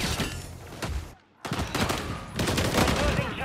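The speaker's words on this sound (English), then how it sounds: "Taking effective fire." Dense gunfire in Call of Duty Modern Warfare III, loud sustained bursts of automatic shots that cut out briefly and then resume just as heavily.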